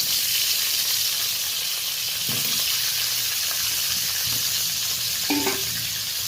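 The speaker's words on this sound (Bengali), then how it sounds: "তেলটা গরম হয়ে গেছে কেটে রাখা আলুটা তুলে দিলাম" Cut potatoes dropped into hot mustard oil and frying, with a steady loud hiss and sizzle throughout and a few soft clatters as the pieces land and shift.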